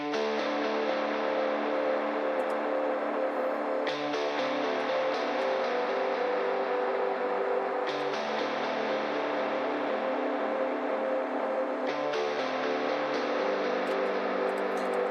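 Heavily compressed, pushed metal guitar through a Telos Guitar amp plugin, a dense wall of distorted chugging with chord changes roughly every four seconds, loud and continuous with no talking.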